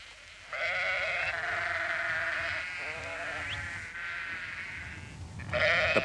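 Sheep on a large, poor-pasture sheep farm at Teal Inlet in the Falklands bleating in long, drawn-out calls, several overlapping voices fairly close with outdoor wind noise beneath.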